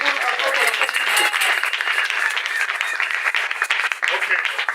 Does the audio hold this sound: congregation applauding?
yes